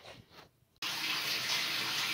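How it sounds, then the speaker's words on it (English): Bathtub filling with water from the tap: after a quiet moment with faint handling noise, the faucet opens abruptly into a loud, steady rushing gush of water that continues unbroken. "I'm going to draw a bath for Maze."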